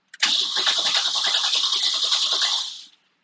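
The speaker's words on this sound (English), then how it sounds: "We're in neutral. She's gonna crank." A 1992 Isuzu pickup engine in neutral cranks steadily without catching, the starter churning in a fast, even rhythm for about two and a half seconds before stopping, close and loud with no talk.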